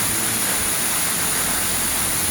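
Ghonsari waterfall roars as a dense, steady wash of rushing water heard up close, filling the whole moment without a break.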